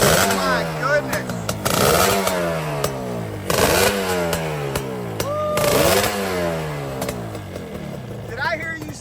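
A two-stroke dirt bike engine, an RD fitted with a Banshee top end, is revved in repeated sharp throttle blips that climb and fall, loud and nearby, with people talking between revs.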